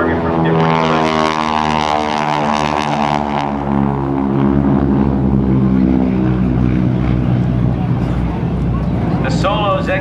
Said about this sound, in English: The two aircraft have maneuvered so they can pop up on different climb angles and roll in on a ground target from different places.